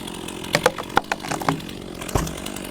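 Stihl MSA 200 battery chainsaw cutting small wood, heard as a few short, sharp bursts and cracks of wood breaking and chain biting, close and moderately loud, with no talk.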